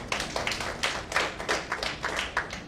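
Scattered, uneven hand claps from an audience at an AmCham candidate forum in Sri Lanka, a handful of separate claps spread across a few seconds, moderately near with no talk over them.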